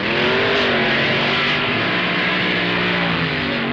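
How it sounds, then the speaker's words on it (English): A 1969 drag-racing car, such as a Barracuda or Chevy, roars under hard acceleration at a meet. The engine's tone stays loud and sustained, with a strained, slightly shifting pitch over a few seconds. "Schumacher's engine expires while Larson charges to a great 735, 192-mile-per-hour win, and the crowd loves it"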